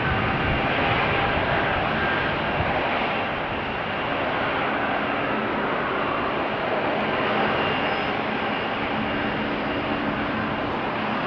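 Jet engines spool at Amsterdam Schiphol Airport, giving a loud, continuous broadband roar with a steady whine that holds fairly even throughout, heard from a distance with no voices.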